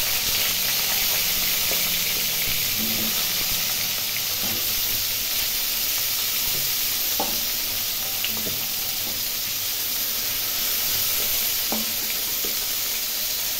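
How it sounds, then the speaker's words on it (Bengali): Pieces of pointed gourd (potol) fry in hot oil in a pan, giving a steady, even sizzle with a few soft clinks and stirring sounds, and no talk. "এখন পরের পটলগুলো ভেজে নেব।"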